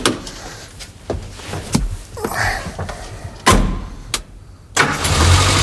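A car engine with a previously sticking needle valve cranks in several sharp bursts with knocks and clunks between them, then catches and settles into a running rumble near the end.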